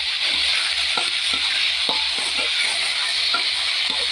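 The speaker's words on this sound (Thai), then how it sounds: "แล้วก็คลุกกับหมูลงไปค่ะพัดคลุกเข้าให้เข้ากันค่ะ" Pork and egg sizzle steadily in a hot pan while being stir-fried, with a constant hissing fry broken by regular scraping and tossing strokes of the spatula.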